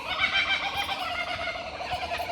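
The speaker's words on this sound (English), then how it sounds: "It's a kookaburra." Kookaburras call along a bush walking track in Buderim, Queensland, a rapid, cackling chorus of laughing hoots rising and falling continuously at moderate distance.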